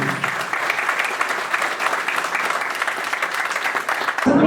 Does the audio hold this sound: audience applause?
yes